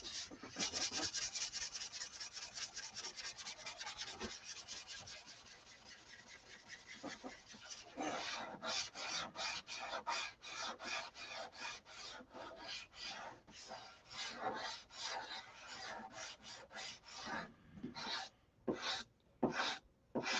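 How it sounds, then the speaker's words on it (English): Primer is sanded off a SIG Magnum model airplane by hand in long rapid rasping strokes, close and steady, growing choppier and more rhythmic toward the end. "Getting all this primer sanded back off."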